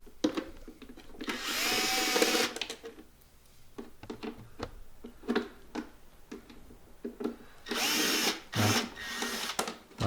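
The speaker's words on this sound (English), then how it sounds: "Let me get my drill, and then we can take those off real quick." A cordless power drill removes parts from a Mazda Miata in a garage, whirring in several loud bursts with short pauses and tool clatter between them.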